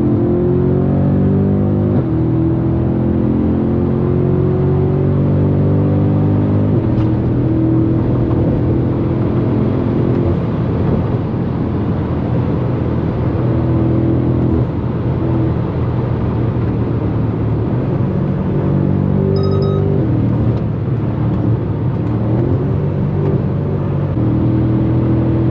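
Car cruising on a highway, a loud constant engine drone and road rumble with steady tonal hum, occasional slight shifts in pitch, no talking.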